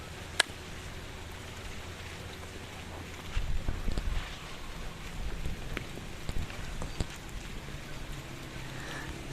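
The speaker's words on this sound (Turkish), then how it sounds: "Biraz yağmur var." Rain falling on a tent in heavy wind and fog, a soft continuous patter with scattered sharper drops and a slightly louder spell partway through.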